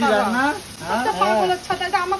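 Yardlong beans and potatoes frying in a pan, a steady hiss of hot oil running underneath people talking loudly nearby.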